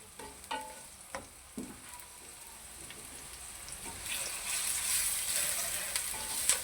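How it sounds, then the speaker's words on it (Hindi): Masala and onions fry in a pan, with a soft steady sizzle that builds toward the end, broken by a few scraping stirs of a spoon, and no one talking. "दूसरी साइड पे ये देखिए हम मसाला इसका अच्छी तरह भून लेते हैं।"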